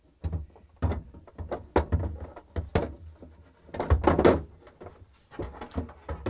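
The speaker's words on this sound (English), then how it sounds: "And we're going to install the drawer back in." A drawer is slid back onto its rails inside a GE refrigerator during an evaporator fan motor repair, giving a series of close thumps, knocks and scraping rattles in an uneven rhythm.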